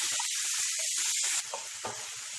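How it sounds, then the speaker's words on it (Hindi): Chopped tomatoes frying on a high flame in a pan, a steady close sizzle and hiss that softens midway, with faint stirring taps. "टमाटर को भी भून लेते हैं हाई फ्लेम पे।"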